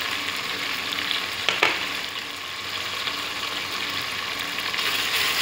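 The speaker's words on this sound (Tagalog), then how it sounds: "ilagay ko yung ginger paste and garlic paste." Ginger and garlic paste fries in a hot pan for a chicken curry, alongside caramelizing tomato, giving a loud, steady, close sizzle with a brief stirring clatter partway through and no talk.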